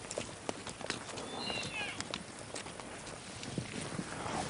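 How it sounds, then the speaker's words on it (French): Wild horses of the Danube delta walk through foliage, their hooves giving soft, irregular clip-clop steps at moderate distance over steady outdoor ambience, with faint bird calls. "Mais revoilà nos chevaux sauvages du Danube."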